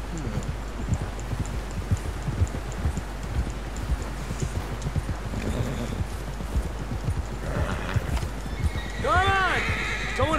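Horse hooves clip-clop steadily at a gallop in the open-world western game Red Dead Redemption 2, with a loud whinnying neigh near the end, heard under ongoing talk.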